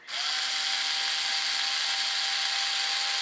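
A power driver backs screws out of a scratch-built RC jet B-1 bomber model. It gives a steady, close, high-pitched whir that runs unbroken for about three seconds.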